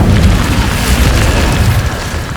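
A fiery spell blast in the Hogwarts Legacy video game, a loud, dense, rumbling boom that fills the whole clip without any voices.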